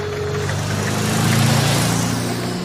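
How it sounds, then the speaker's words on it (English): A magnificent motor car drives past on a country road with a steady, loud engine drone that swells slightly in the middle, and no voices. "suddenly a magnificent motor car drives past"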